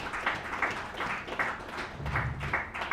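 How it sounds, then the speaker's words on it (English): Audience in an auditorium at a book launch applauds an elderly honoured guest, a steady round of clapping with loose individual claps standing out, fairly close and unbroken for the full stretch. "A round of applause for her,"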